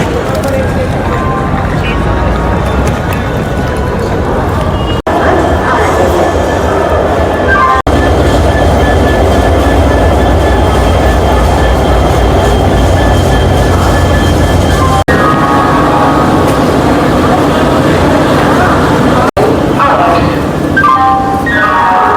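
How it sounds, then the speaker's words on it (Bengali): The Howrah–Chennai Mail, train 12839, stands at platform 23 with a constant loud rumble of engine and station noise, and voices are heard talking throughout. "আপনি আমার পেছনে দেখছেন 12839 আপ হাওড়া চেন্নাই মেল"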